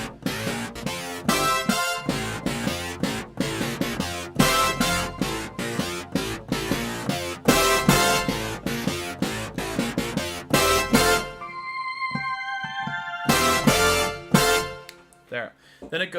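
A Korg Kronos keyboard plays a section of a song, with dense rhythmic synth chords and drums over a sustained passage, then thinning to sparse hits before the full sound returns.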